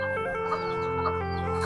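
Laying hens being sold cluck and murmur nearby in a steady, overlapping chorus with no talking.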